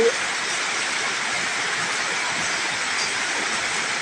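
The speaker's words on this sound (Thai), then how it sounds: "พี่น้องฟังเสียงฝนเด้อ" Steady, dense late-night rain with water pouring and running down, a loud continuous hiss close by with no breaks.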